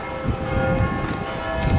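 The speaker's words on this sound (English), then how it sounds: "Nice, beautiful sounding bells" Bells ring beside a building, their sustained tones layered over steady low background noise through the whole moment, with no voices.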